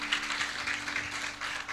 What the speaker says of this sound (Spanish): démosle un aplauso fuerte a nuestro Dios por su palabra